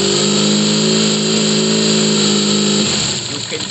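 A BMW boxer motorcycle engine turning over on the starter during an ignition coil test, a loud, steady whirring drone that cuts off before the end.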